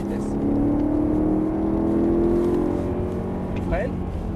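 BMW M3 on a racing circuit during a driving course, a steady loud engine drone with a tone climbing as it gathers speed, people talking over it inside the car.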